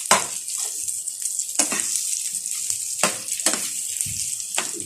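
Fried pork sizzling in a pan while cooking adobo, a steady loud frying hiss with sharper crackling bursts recurring every second or so, close and continuous with no talk.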